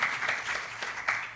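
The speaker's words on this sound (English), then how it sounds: "Please, let's give a big round of applause." A conference audience applauds after a scientific session talk, a brief burst of moderate clapping with a faint voice mixed in, fading within a second and a half.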